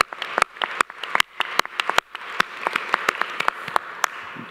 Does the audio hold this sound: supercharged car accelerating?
no